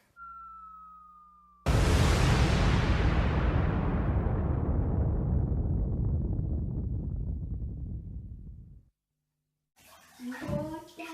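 A bath bomb hits the bathwater with a loud splash and then fizzes in a steady roar that slowly fades over several seconds, followed by a short silence and then someone talking.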